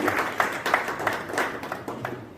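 Audience applause greeting a bar association president at a Constitution Day event in Delhi, steady moderate clapping from a gathered crowd, fairly faint and uneven.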